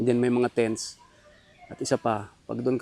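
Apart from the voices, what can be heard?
No everyday noise stands out behind the speech.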